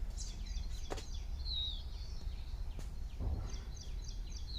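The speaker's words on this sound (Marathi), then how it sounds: "पक्ष्यांचं सुमधूर असं संगीत ऐकू येतं" Several birds sing and chirp around a village house with mango trees, bright short calls repeating in scattered phrases over a quiet outdoor background, with a few faint knocks.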